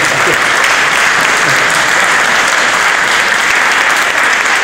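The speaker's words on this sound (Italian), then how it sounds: "un bel applauso a Giuliano Curati" Sustained, loud audience applause at an Italian comedy and food event, steady clapping from a large crowd filling the whole stretch without any voices on top.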